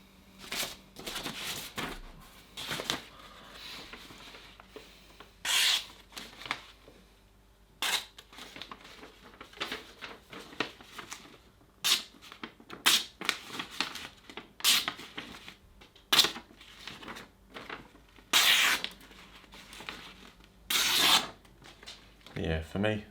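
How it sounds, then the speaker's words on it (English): A knife blade is touched up on a high-end sharpener with irregular bursts of close, gritty scraping strokes, some short and some longer, separated by quiet gaps and faint handling noise. "I'm just touching up the blade really"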